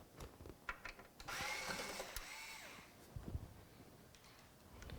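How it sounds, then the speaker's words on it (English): A power screwdriver whirs and grinds as its clutch slips against tight screws on a desktop computer's radiator, a loud burst of about two seconds between short taps and handling noise. "that grinding sound, that's the clutch inside of the screwdriver, that the screws are so tight, it's hitting the clutch mechanism"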